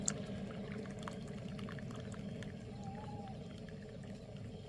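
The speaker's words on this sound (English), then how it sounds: "We're going to pour the water." Hot steaming water being poured, a faint continuous trickle and gurgle under a low background rumble, steady throughout.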